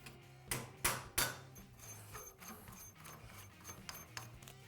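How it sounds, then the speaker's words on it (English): A few sharp metallic taps ring out, then lighter ticks and clicks follow, close by and quiet, as a hammer strikes a punch to loosen the lock ring on a Showa ATV or dirt bike shock. "We have a punch and a hammer to do that."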